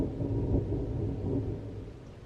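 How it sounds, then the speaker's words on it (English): Low, continuous thunder rumbling through a spring day, a broad dull roar that swells slightly and then eases off, steady and moderately loud with no voices over it. "Do you hear the thunder?"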